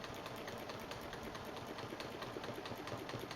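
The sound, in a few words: sewing machine stitching a quilt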